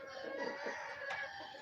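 Faint clucking and crowing from chickens nearby, a few overlapping calls against a quiet farmyard background.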